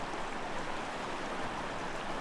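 The South Platte River in Cheeseman Canyon rushes past in a steady, even wash of flowing water, close and unbroken, with no voices.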